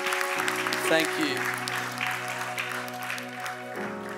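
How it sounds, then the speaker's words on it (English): A church congregation claps together during a service, a moderate wash of applause under sustained keyboard chords, with a voice briefly speaking over it. "let's just give the Lord one more clap"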